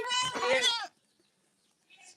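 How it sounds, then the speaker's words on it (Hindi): A goat gives one loud, close, wavering bleat, followed by a short pause and a faint distant bleat or call from the herd. "बकरी स्क्वाड।"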